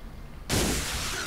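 Sudden loud burst of gunfire in the horror video game Angel of the Mourning, shooting yellow targets, a sharp onset after near silence followed by a sustained noisy crackle.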